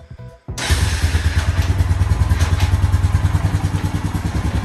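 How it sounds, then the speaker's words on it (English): A Honda Foreman 450 ES ATV with a broken rear end runs in gear with its front tire spinning, the engine starting abruptly after a short quiet moment and then holding a steady, loud, pulsing idle-like drone close by. "Got our front tire spinning here."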